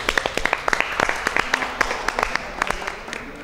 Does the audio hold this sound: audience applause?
yes